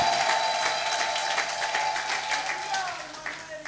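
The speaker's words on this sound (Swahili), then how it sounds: "Tumshangilie Yesu kwa makofi" A church congregation at an Easter service claps along with a sustained sustained musical tone underneath, a dense, fairly loud rush of many hands that fades slightly toward the end.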